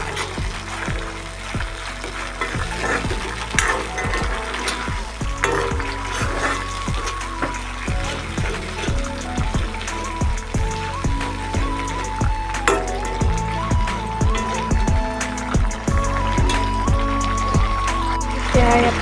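Tomato paste, made from boiled tomatoes, frying in a hot pan with a steady close sizzle throughout, broken by repeated sharp clinks and scrapes of a utensil against the pan.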